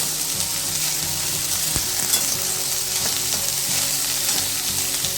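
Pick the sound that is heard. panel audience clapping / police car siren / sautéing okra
sautéing okra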